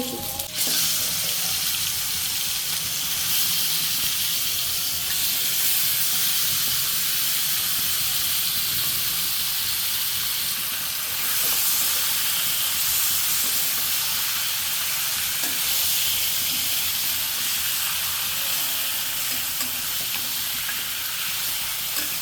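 Garlic fries in oil with a loud, steady sizzling hiss that continues unbroken throughout, close by, with no talking.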